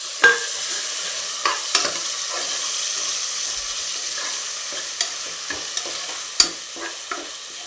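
Onion, ginger-garlic paste and tomato frying in a pan for vegetable pulao, a steady close sizzle broken by scattered scrapes and clinks of a spoon stirring.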